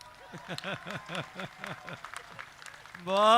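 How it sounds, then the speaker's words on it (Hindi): Applause and scattered clapping from an audience, mixed with voices and chuckles; a louder voice cuts in at the very end. "इधर वाले लोगों की कम तालियां हैं साहब"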